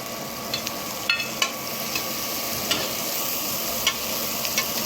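Shredded cabbage frying in a pan for egg fried rice, a steady close sizzle with occasional scraping clicks of a spatula stirring it, no voices.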